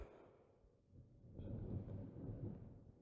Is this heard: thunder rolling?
yes